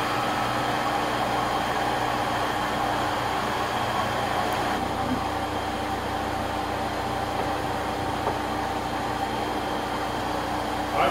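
A rotary phase converter on North American single-phase house power spins up and runs a three-phase motor, a steady mechanical hum with a constant electrical drone that holds level and close throughout.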